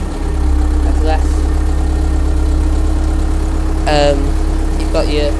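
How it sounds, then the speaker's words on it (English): A tractor engine runs loud and close as a low, steady drone that changes little, while someone speaks briefly over it. "when I pull it back you can hear it's got more revs, and then push it back, that's less"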